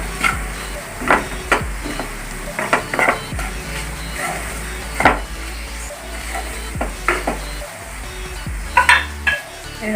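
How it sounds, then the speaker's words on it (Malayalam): Garlic with chili powder, turmeric and asafoetida is stirred in a frying pan for a garlic pickle, a spoon scraping and clinking against the pan in irregular strokes over a steady low sizzle, close and fairly loud, with no talking. "നമ്മുടെ വെളുത്തുള്ളിയിലേക്ക് നമ്മുടെ മുളകും മഞ്ഞൾപ്പൊടിയും കായപ്പൊടിയൊക്കെ നന്നായി മിക്സ് ചെയ്ത്"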